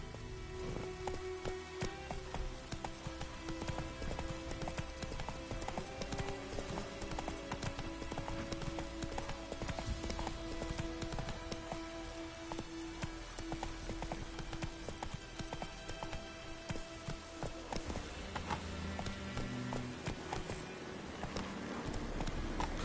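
Steady rhythmic hoofbeats of a horse galloping in The Witcher 3, continuous and moderately loud over game ambience and music, with no voices heard.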